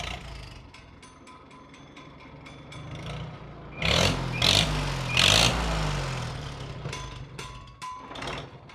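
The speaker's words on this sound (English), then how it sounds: "It has to be idling at like 200 RPM." An old 1957 Farmall tractor engine idles at about 200 RPM with a slow, low rhythmic chugging and mechanical clatter, joined midway by louder bursts of hissing and rattling.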